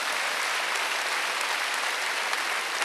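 A church congregation at a Wednesday worship service bursts into dense, steady applause, many hands clapping together in a loud, continuous wash with no voices over it.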